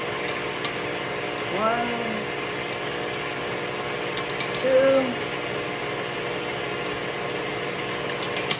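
An electric mixer whirs at a higher speed as it whips homemade cream, a steady, even hum that runs throughout, with a voice counting and talking over it.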